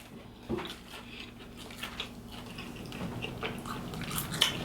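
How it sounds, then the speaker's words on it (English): Steak being chewed up close in a mukbang-style meal: a steady run of soft, moist chewing and smacking sounds with occasional sharper bites, faint and continuous, with no talk during it. "I'm chewing a steak"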